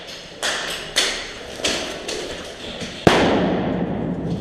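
Airsoft grenades going off during an all-night milsim game inside a building, a series of sharp pops and thuds spaced about half a second apart, with one louder close bang near the end followed by a ringing echo.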